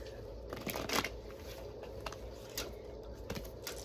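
Soft, quick riffling bursts of tarot cards being shuffled, repeating every half second or so against a low background hum, close and fairly quiet.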